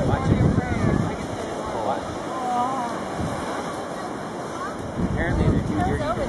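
Ocean waves wash and surge around a boat under gusty wind buffeting the microphone, while people talk and shout nearby over the steady roar of the water.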